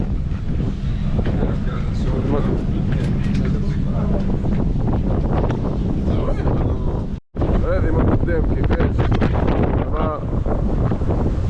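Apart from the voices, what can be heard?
strong wind on a boat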